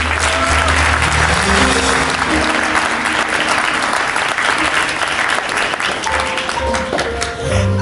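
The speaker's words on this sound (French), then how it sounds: "Je veux des acclamations pour lui, s'il vous plaît" Wedding guests cheer and clap loudly for the groom Ange as he stands, a strong sustained burst of applause with background music tones running underneath.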